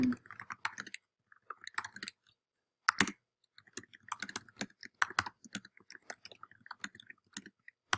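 Typing on a computer keyboard to enter time into the Toggl time tracker: close, crisp key clicks in quick bursts separated by short pauses.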